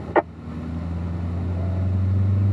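Corvette engine on a track at Spring Mountain, held near 4,500 RPM with a steady low drone that gradually builds in loudness, a brief sharp click near the start.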